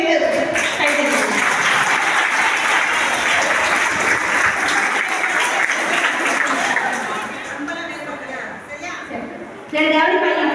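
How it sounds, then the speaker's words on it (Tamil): An audience applauding prize winners at a higher-education event, loud sustained clapping close by that thins and fades near the end before a final burst, with children's voices mixed in. "வெற்றி பெற்றவர்களுக்கு அனைவரும் சேர்ந்து கைதட்டணும்"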